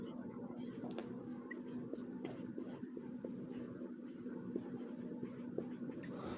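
A pen scratches across paper in short strokes while a math problem is worked out, faint and close, under a low steady hum with soft voice traces.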